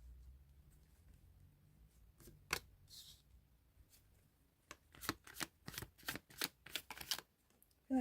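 Tarot cards shuffled by hand in a quiet room, a slow riffle at first, then a quick run of crisp, close slaps and flutters toward the end, with no voices.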